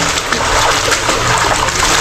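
Water splashes and sloshes in a loud, continuous burst of close, dense spattering noise with no clear pauses.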